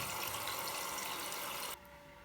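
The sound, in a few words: water starting to flow into a shrimp incubator in a reef aquarium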